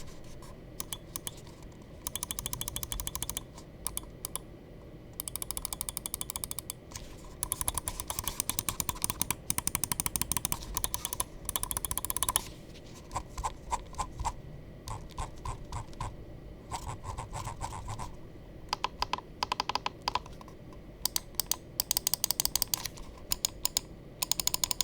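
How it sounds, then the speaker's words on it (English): Lamzu Atlantis Mini Champions Edition 8K gaming mouse clicking in a test, sharp dry clicks in quick bursts and scattered runs, close and crisp, with short pauses between clusters and no talking. "let's go ahead and drop the click sound test"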